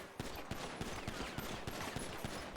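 A rapid string of pistol shots empties a magazine on a police academy firing range in the GTA V roleplay game, evenly spaced cracks fired in quick succession, loud and close, with no talking.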